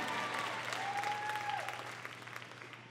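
A church congregation claps during a sermon on healing, a dense, steady wash of applause that fills the room and fades slightly toward the end, with a thin sustained tone gliding beneath it.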